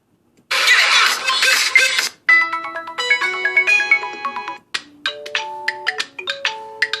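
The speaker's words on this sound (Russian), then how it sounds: "давайте звук послушаем, звуки уведомления" A run of Nexus 6P notification sounds plays one after another through its stereo speakers, bright electronic chimes and jingles, loud and close, each with a short pause between.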